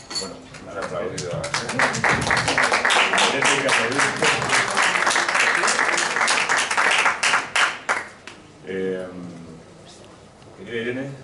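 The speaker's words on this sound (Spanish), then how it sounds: "Bueno, han aplaudido." Audience applause at a Spanish book presentation breakfast, dense sustained clapping from a crowd that thins out and fades toward the end, with voices heard faintly underneath.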